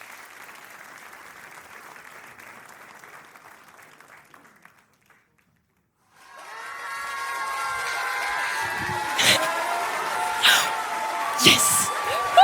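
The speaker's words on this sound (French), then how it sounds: "Est-ce qu'on peut les applaudir bien fort," Audience applauding after a short performance by actors, the clapping starting about halfway through and building loud and dense with scattered cheers and whoops, following a quieter stretch of murmuring and a brief silence.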